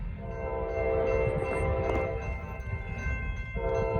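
A Norfolk Southern train crossing over, its horn sounding a long steady blast, then a brief pause and another, over the rumble of rolling wagons, moderately distant.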